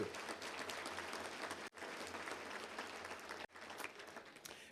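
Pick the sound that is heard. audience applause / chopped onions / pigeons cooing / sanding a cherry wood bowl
audience applause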